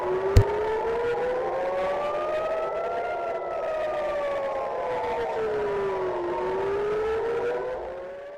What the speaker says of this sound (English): Sirens sounding over Tel Aviv as a barrage of missiles hit the nation.